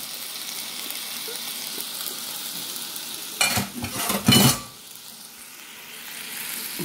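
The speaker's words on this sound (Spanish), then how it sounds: "ponle el coco, lo pongo ahí a que se vaya hirviendo" Coconut mixture set to boil in a pot for a corn-flour bollo, heard as a short burst of stirring and bubbling sizzle in the middle of an otherwise quiet kitchen, with no talking.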